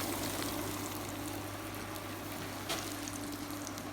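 Vegetable cutlets frying in oil one by one, a steady, quiet sizzle with a constant low hum underneath and no talking.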